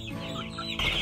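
Chickens and chicks cluck briefly in a coop, a short burst of close, throaty clucking that grows louder near the end.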